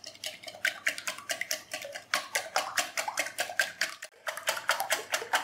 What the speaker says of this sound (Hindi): अंडों को हमने अच्छे से फेंट लिया